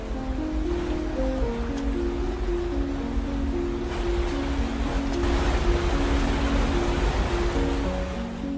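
Rushing water from a waterfall pouring over rocks in a film scene, a steady broad roar that fills the whole stretch without pause while faint background music runs underneath.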